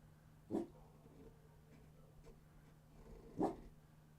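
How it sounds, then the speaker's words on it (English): Dog barking in the neighborhood, two distinct barks spaced about three seconds apart, moderately distant over a steady low electrical hum. "you can hear my dog"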